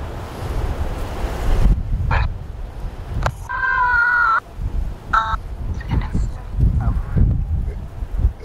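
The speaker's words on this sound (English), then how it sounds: "Yeah, it's kind of windy, isn't it?" Wind gusting across an open cemetery, a rough, blustery rush near the microphone with brief bird honks partway through.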